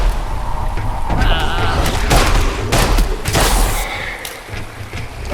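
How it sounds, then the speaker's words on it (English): Bursts of gunfire in a Fallout-style shooter game, loud broadband cracks and booms clustered through the middle with a steady game ambience underneath. "And somebody tried to shoot me."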